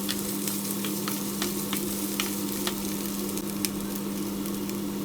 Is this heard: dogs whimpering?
no